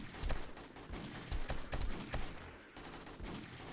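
Desert Eagle pistol shots ring out in 7 Days to Die during a zombie horde night, a quick irregular burst of sharp cracks, some closely spaced, fairly quiet overall and without talk.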